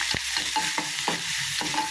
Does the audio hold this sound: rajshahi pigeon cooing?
no